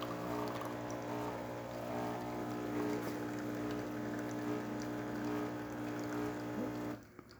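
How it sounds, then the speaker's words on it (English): A Saeco espresso machine just back from service for a wrench error hums steadily while pouring an espresso shot, a continuous mechanical drone with pump tones, fairly close, ending abruptly near the end. "nice steady stream coming out of the machine"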